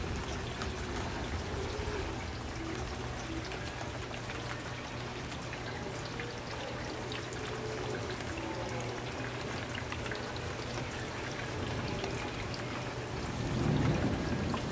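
Steady rain falling on a rainy day at Lake Carroll, a continuous dense patter and trickle of water at even level, with a faint low rumble swelling near the end like distant thunder.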